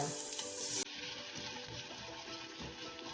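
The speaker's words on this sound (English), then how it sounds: "When hot, add the onions and then stir" Onions fry in hot lard or oil in a pan, giving a close, steady sizzle with scattered crackles and the soft scrape of stirring, and no talking.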